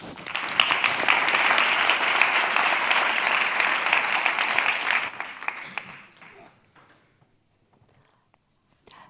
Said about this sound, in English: So please give a big applause to Adis Madavis and her project Pediatric Labs.